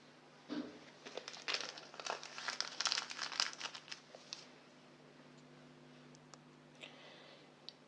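Crinkling of a packet of baking yeast being torn and poured for a no-knead flatbread dough, a dense burst of papery rustles and clicks, close and fairly loud, tapering to a few scattered crackles.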